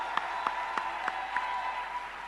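An audience at the Bank of Ghana's 60th anniversary launch of the Ghana cedi applauds in a steady, even wash of clapping, with a few sharper individual claps standing out above the crowd.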